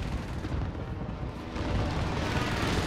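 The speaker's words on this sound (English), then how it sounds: "Allied precision airstrike incoming." A precision airstrike in the Warzone Caldera battle royale lands as a run of deep rumbling blasts and booms, loud and close, rolling together into a sustained roar with no speech over it.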